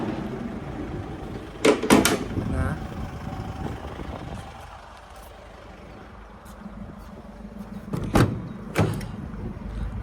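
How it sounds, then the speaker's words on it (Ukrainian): A Mercedes-Benz Sprinter 316 2.2 van's sliding door rolls and thuds twice, once early and once near the end, with quieter rustling and background noise between. "Автомобіль має дві розсувні дверки."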